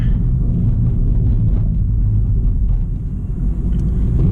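Chevy Spark rolling over a potholed city street, a steady loud low rumble of road and engine noise filling the cabin with small uneven thumps from the bumps.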